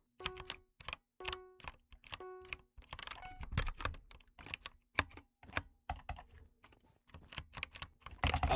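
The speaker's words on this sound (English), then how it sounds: "This keyboard is a lot more responsive than all the other keyboards." Fingers type on a computer keyboard during gaming, crisp clicky keystrokes landing in quick irregular bursts with short pauses between them, close and clear with no voices.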